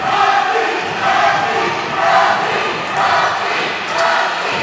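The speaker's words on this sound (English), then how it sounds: "I think the crowd just likes to chant Rocky because they miss The Rock." A wrestling arena crowd chants Rocky in a steady repeated rhythm, a loud, dense wash of many voices rising and falling about once a second.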